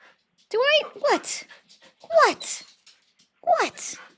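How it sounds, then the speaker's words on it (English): A pet dog whimpers and yips in three close, high-pitched bursts, each a rising and falling whine followed by a sharp yelp, loud and near with quiet gaps between. "the dog is like still going"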